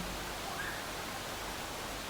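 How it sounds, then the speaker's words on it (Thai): A stream with a small waterfall at a valley café in Chiang Mai gives off a steady, even wash of rushing water, faint and continuous with no other sounds over it. "มันมีลำธารแล้วก็จะมีน้ำตกเล็ก ๆ"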